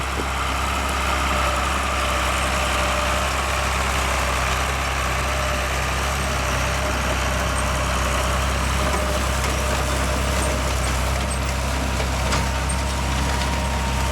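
An old tractor-drawn corn planter works a field, and a steady low engine drone holds unbroken throughout, loud and continuous, with no speech over it.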